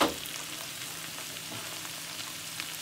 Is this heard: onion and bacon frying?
yes